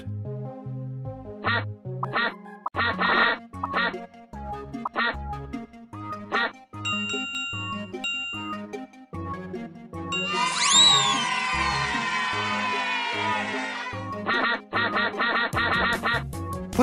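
In the phonics game Teach Your Monster to Read, a flurry of cartoon duck quacks erupts loudly over a looping, plucky game melody with bell tones, lasting a few seconds before the jaunty background music resumes.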